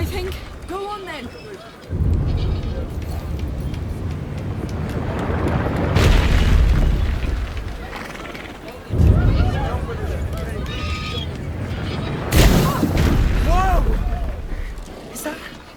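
A cannon loaded with Greek fire in the video game A Plague Tale: Requiem fires several heavy booms at irregular intervals, each with a rumbling tail, over a continuous bed of game ambience and voices talking.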